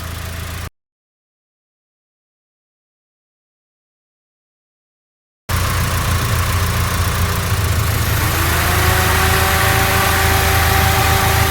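A car engine idles steadily after a gap of silence, and the radiator fan, switched on by the thermo switch, joins in as a broad, rising whoosh. The sound is close and continuous, with no talking.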